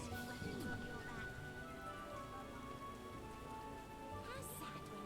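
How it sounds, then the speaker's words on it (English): Steady rain patters on surfaces in the video game The Witcher, a soft, even wash of drops throughout, with faint tonal game sounds and brief speech-like chatter mixed in. "How sad when it rains."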